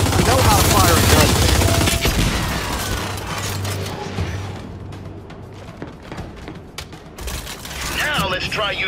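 Automatic gunfire from the Gears of War 5 training mode bursts loudly over a game soundtrack, dense at first and then thinning into scattered shots and clanks, with a voice talking over it.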